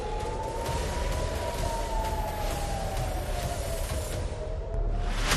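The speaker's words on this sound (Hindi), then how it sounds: "इजरायली सेना ने कहा कि हिजबुल्लाह के मिसाइल हमले के बाद सायरन बज उठे थे" An air raid siren wails steadily in Israel after a Hezbollah missile attack, its single rising-and-falling tone holding loud and continuous over a broad rumble of background noise, with no voices.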